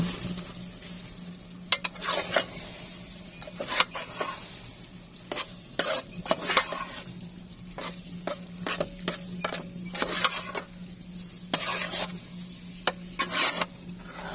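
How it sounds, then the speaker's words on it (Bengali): Noodles are stirred in a frying pan with a metal utensil, with irregular scraping and clattering strokes over a low, steady hum and soft sizzle, close and moderately loud, with no voices. "এখন ভালো করে নাড়িয়ে নেব"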